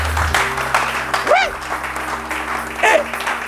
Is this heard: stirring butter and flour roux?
no